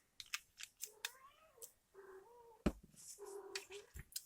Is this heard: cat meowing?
yes